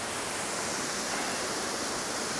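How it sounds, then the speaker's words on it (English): A waterfall roaring steadily at close range, a dense, unbroken rush of falling water that fills the whole clip without any voices. "to this final waterfall"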